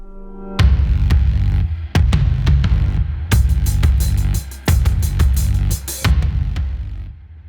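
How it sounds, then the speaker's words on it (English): Strong Southeaster wind in Cape Town buffets a microphone with loud, rumbling gusts that come in repeated bursts of varying length, with brief lulls between them. "excuse the wind noise because everybody in Cape Town loves the Southeaster"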